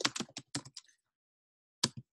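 Someone types on a computer keyboard during a keyword search, a quick burst of close, crisp key clicks, then a pause and two more taps.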